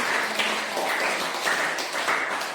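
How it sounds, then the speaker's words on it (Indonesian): An audience claps for a group presentation in a classroom, a steady, moderately loud patter of many hands with a few rhythmic surges. "Mari kita juga tepuk tangan."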